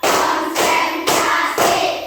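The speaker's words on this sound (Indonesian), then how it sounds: "Tepuk 1, tepuk 2, tepuk 3, tepuk 4" Four bursts of group clapping by students in a classroom, each a short flurry of many hands about half a second apart.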